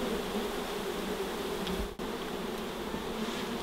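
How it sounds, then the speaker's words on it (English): Many wild bees from a hive inside a kitchen cupboard buzz close by in a dense, continuous drone that holds steady throughout. "there's all these bees that have gone completely off tap"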